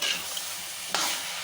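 Potato samosa filling being stirred and fried in a pan, a steady close sizzle with a brief louder scrape of the spoon partway through.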